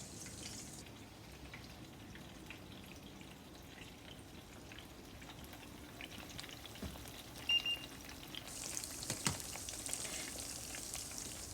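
Shrimp toast frying in hot oil, a faint steady sizzle and bubbling crackle close by, with a few light clinks and a slight swell near the end.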